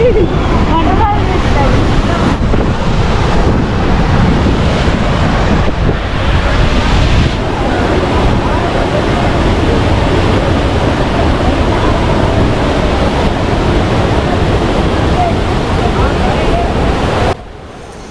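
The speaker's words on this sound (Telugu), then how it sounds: "మనకి ఫ్లో అనేది రెండు మూడు చోట్ల నుంచి కిందకి వస్తున్నాయి వాటర్" A loud, continuous roar of Ethipothala waterfall rushing down in two or three streams fills the scene, steady and dense from start to finish before dropping slightly at the end.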